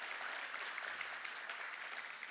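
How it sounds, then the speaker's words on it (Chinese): An audience at a company introduction presentation claps together in a brief burst of applause, moderately distant and steady, with no voices over it. "通常讲到这里都会有掌声"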